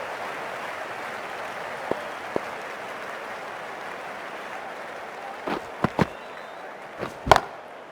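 A crowd in the Cricket 24 video game roars steadily after a six, a constant wash of cheering with a few sharp thuds and claps near the end.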